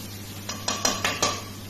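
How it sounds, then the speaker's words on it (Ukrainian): Cabbage being stirred with onion in a pan: four or five distinct metallic clinks of a utensil against the pan over a low steady background, with no talking. "і перемішуємо разом з цибулею"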